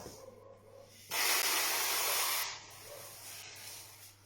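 Dry rice pours from a container into a plastic microwave rice cooker, making a loud, steady hiss that lasts about a second and a half. It starts abruptly and then tapers off, with quiet room noise before and after.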